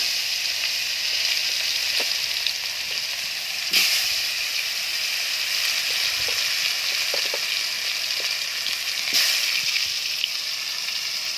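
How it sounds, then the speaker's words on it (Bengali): Green chillies and chopped tomatoes sizzle steadily in a frying pan with hot oil for a fish curry, a close, continuous hiss broken by occasional sharper pops and spatters. "প্রথমে লঙ্কা, কাঁচা লঙ্কা, তারপরে টমেটো কুচিগুলো ছেড়ে দেব।"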